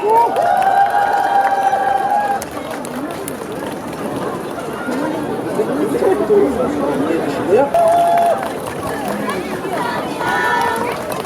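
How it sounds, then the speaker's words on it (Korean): Loud, continuous crowd noise of clapping and cheering at an outdoor K-pop busking show in Yeouido Hangang Park, with shouts rising above the din and voices chattering throughout. "자 여러분들의 박수와 함성으로 무대와 함께 만나보도록 하겠습니다."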